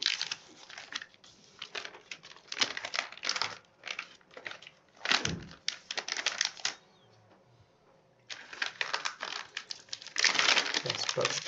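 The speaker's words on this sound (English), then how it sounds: "So you can pack them in this plastic bags." Plastic bags are handled and sealed for doping control samples, giving repeated loud crinkling and rustling bursts, close up, with short quiet gaps between them.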